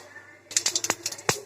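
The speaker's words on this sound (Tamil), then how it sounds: "ஒரு ஸ்பூன் கடுகு போட்டுக்கிறேன். கடுகு பொரியட்டும்." Mustard seeds splutter in hot oil in a pan, a quick run of small sharp pops and crackles after a brief quiet start.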